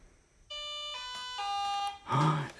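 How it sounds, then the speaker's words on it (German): A doorbell rings indoors in a few clear sustained electronic chime tones that step between pitches, followed by a louder burst of noise at the end; no one talks. "Jetzt klingelt es auch noch an der Tür."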